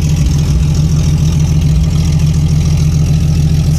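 A car engine idles with a deep, steady rumble through a newly finished exhaust that no longer leaks, the low throb loud, close and unbroken with no talking.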